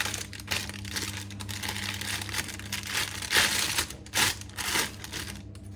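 Paper being folded into quarters by hand, with close crinkling and crisp creasing sounds coming in a few sharp bursts over steady background hum.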